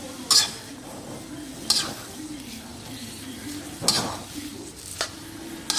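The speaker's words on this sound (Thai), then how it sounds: "คลุกเคล้าอีกรอบหนึ่งให้เข้ากันครับ" White shimeji mushrooms stir-fried with egg in a pan, a soft sizzle under repeated scraping and clinking of a utensil against the pan in uneven strokes, several louder knocks scattered through.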